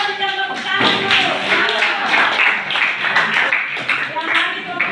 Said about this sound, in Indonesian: Ya, kita berikan tepuk tangan dulu.